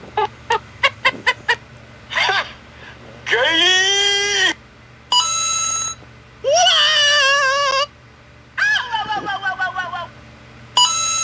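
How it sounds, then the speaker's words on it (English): Several custom notification tones play one after another on an Android 11 phone running One UI, a mix of short beeps, rooster-like crowing and clucking, and bright tonal chimes, each burst loud and separated by brief pauses. "Then it'll pop up over here in your notification sounds."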